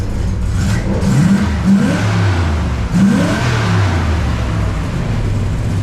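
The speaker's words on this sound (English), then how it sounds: "That guy's revving his Honda over there." A nearby Honda car's engine revs in several rising bursts over a steady idle, loud and close, with no talk over it.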